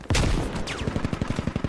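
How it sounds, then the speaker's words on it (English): A machine gun fires in a video game: a sharp burst, then a fast run of rhythmic shots trailing off, with no voices. "He's suppressing us with an MG of some sort."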